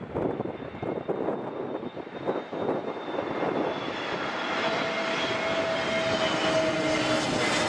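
A TAP Airbus A320neo jet lands at Heathrow in storm winds, its engine roar loud and continuous, a rising whine building toward the end amid gusty wind noise.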